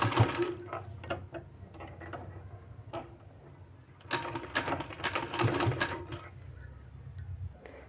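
A sewing machine stitches palazzo pants in two runs of rapid, rhythmic needle clatter separated by a quieter pause, close up and without talk.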